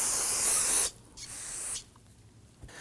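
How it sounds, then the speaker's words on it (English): A close aerosol can of spray solvent hisses in two bursts, a long one and then a shorter one, with quiet pauses between, while cleaning car front brakes. "Use that spray solvent to clean that up."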